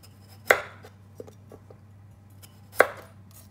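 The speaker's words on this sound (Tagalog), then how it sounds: "First, tatan po natin ang potato. Pagkatapos, hiwain lang to ng straight." Knife slicing a potato into thin straight strips on a cutting board: two sharp, close chops with a few lighter taps between, no voices.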